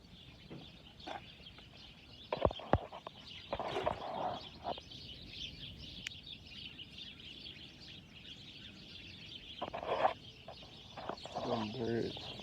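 Chickens cluck nearby in scattered bursts, with a few sharper calls against a quiet outdoor background. Faint voices are heard at times.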